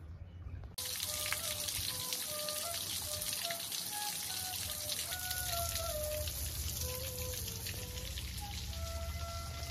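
An artificial garden waterfall splashes and patters steadily, a close, even rush of falling water with bright droplet sounds that runs on without pause.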